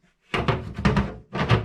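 The door of a food dehydrator is fitted on and pushed shut, making a quick run of close plastic knocks and thuds, with a short pause before the last bump.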